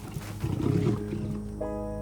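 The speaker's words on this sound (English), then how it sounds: "the distressed lion charges off" A huge, distressed wild lion in Africa gives a deep, close roar as it charges off. One rough, throaty roar swells and then fades, and a faint tonal hum lingers afterward.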